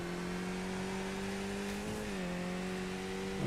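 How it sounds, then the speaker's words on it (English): A Skip Barber race car in the iRacing sim coasting off the throttle, its engine drone holding steady and then dropping in pitch as it slows, continuous and fairly quiet with no voices. "So I will just totally slow down, take my foot off the gas altogether."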